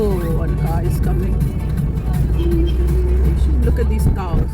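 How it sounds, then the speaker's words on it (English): A car approaching on a rural road, a low steady rumble of its engine audible under continuous nearby talking throughout. "one car is coming."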